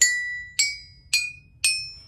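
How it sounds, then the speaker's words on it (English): Four bright, ringing metallic-wooden tones struck one after another at an even pace, each note decaying quickly, heard alone and close. "So here we have a xylophone."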